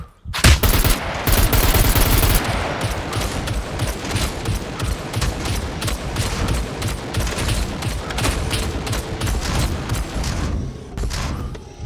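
Automated sentry gunfire in the survival game Scum: loud, rapid bursts of shots packed into a near-continuous volley that starts abruptly and rattles on for about twelve seconds.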